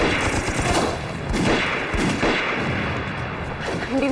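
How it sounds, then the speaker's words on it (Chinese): Loud, dense gunfire from a wartime sniper shootout against Japanese snipers, with continuous rumbling shots and booms filling the whole stretch close by, and a faint voice surfacing near the end. "我们一开枪，他们就开枪了。"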